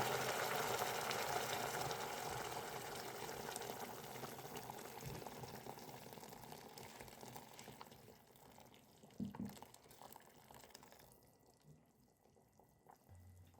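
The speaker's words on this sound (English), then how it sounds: "Finally, add boiling water and let it cook for 90 minutes." Boiling water poured into a pot of Persian split pea stew (khoresh-e gheymeh), a steady rushing pour that gradually fades into soft bubbling and faint clinks.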